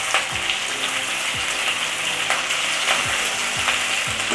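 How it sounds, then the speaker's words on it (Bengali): Chopped green chilli tossed into soybean chilli frying in a pan, a loud continuous sizzle with scattered scraping stirs and clicks throughout. "এবার এতে আমি কাঁচা লঙ্কা কুচিটাও দিয়ে দিচ্ছি।"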